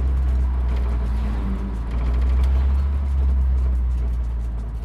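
A 1968 Ford Torino fitted with a swapped AOD automatic transmission cruises in overdrive, its engine settled into a low, steady droning hum heard from inside the car, with no talking.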